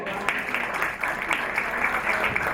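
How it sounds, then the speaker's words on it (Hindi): Audience at an Urdu mushaira poetry gathering applauding, a steady close patter of many hands clapping continuously with no talk over it. "इनके लिए तालियां तो बजा दें।"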